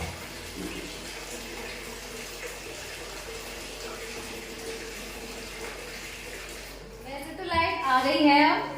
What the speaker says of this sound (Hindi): और अब मैं भर लूँ अपने पूजा के लिए पानी, बाल्टी साफ़ करके